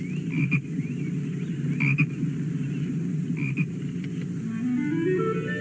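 Toads croak in a steady chorus of low, rasping calls, with a few louder nearby croaks standing out over the continuous background calling.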